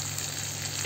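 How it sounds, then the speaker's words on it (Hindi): Steady, low-level sizzling of turmeric, coriander and red chilli powder frying in hot oil for dal tadka, continuous and close with no talking. "मसाले को अच्छे से भूंज लें."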